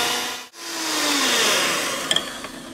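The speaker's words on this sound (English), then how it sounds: "I'm just going to use a hand mixer today to incorporate all of this stuff. So it's going to get a little noisy" A handheld electric mixer creams butter and sugar in a home kitchen, a steady whirring motor running close and loud after a brief stop near the start, with a couple of sharp clicks of the beaters against the bowl near the end.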